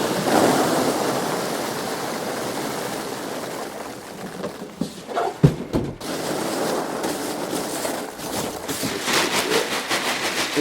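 Loose packing material pours and rustles around a large espresso machine in a shipping box, a steady broadband shushing that runs throughout with a few sharper crinkles midway.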